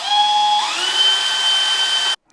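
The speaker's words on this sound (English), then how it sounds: "Each one of these holes took a very long time to drill" Power drill boring holes into a wooden great white shark carving, a loud steady whine that shifts pitch upward partway through, then cuts off abruptly near the end.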